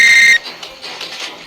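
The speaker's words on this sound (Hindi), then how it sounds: "तभी उसके पास रघुवीर पंडित का फोन आ गया।" A phone rings with a steady electronic tone that cuts off after about a third of a second, followed by faint background noise.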